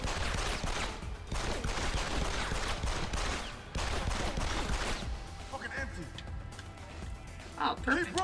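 Dense gunfire from Deus Ex: Human Revolution crackles in rapid bursts through the clip while a person talks over it, fading into quieter game sounds near the end.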